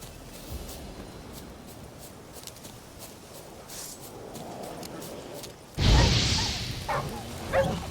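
Dogs bark and yip in the video game The Witcher 3, a scattered series of short barks under game ambience, growing louder with a burst of commotion near the end.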